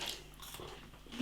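A single quiet crunchy bite into a green tea matcha Kit Kat wafer chocolate bar, soft and close, followed by brief chewing.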